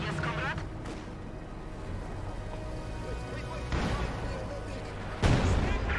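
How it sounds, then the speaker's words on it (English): A ZiS artillery barrage in Company of Heroes 2 lands as a series of heavy booming impacts, with blasts around the middle and a louder one near the end, under a commentator's continuous speech. "Good hit there onto the Panzer Fusiliers with that Zis barrage."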